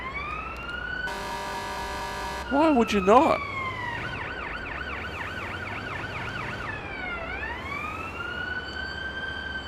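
An ambulance siren in the paramedic driving game Ambulance Life: A Paramedic Simulator blares in rising and falling wails, with a rapid yelp burst and a steady horn tone, loud and continuous while someone briefly speaks.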